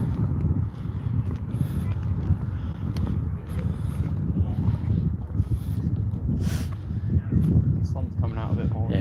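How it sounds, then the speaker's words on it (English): Strong wind gusting by the seafront at Southsea, buffeting the microphone with a constant loud low rumble, while people talk over it. "It's a bit breezy here"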